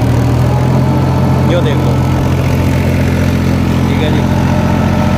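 A tractor engine idles with a steady low drone while its hydraulics lift slightly. Someone speaks over the running engine.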